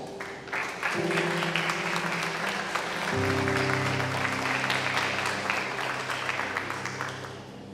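Church congregation clapping for the Lord after a sermon, a dense sustained round of applause that swells after a second, with an organ or keyboard chord sounding beneath and shifting partway through.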